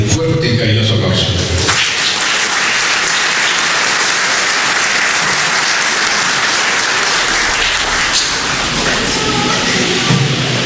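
Loud, sustained applause from an audience at a formal Moquegua prosecutors' board ceremony, welcoming a prosecutor; dense clapping fills the clip after a brief opening of other sound.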